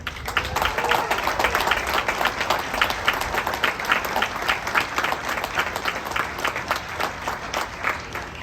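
Audience at an outdoor UTI graduation ceremony applauds the instructors and staff, a dense, sustained round of clapping from many hands that stays loud and even throughout.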